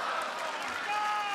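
A large wrestling crowd at the Spectrum Center arena in Charlotte cheers and applauds during a main event, a steady dense roar of clapping and voices filling the short stretch.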